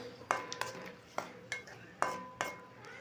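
Egg rice is stirred in a pan, and a utensil clinks and scrapes against the metal about seven times in an uneven rhythm over a soft sizzle.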